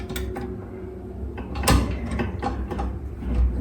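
A screwdriver tightening a hexagonal nut on a bathroom vanity basin gives irregular mechanical clicks and ratcheting scrapes, with a sharper clunk partway through, heard up close.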